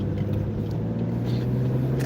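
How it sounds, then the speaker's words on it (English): A steady low engine hum and road rumble from a car cruising on the I-94 and I-80 expressway, constant and even throughout with no talking. "You hear the car, you hear the motor."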